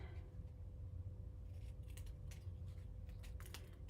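Scissors snipping through cardstock paper to cut fringe, a quick series of close, crisp cutting clicks over a faint low hum, with no talk.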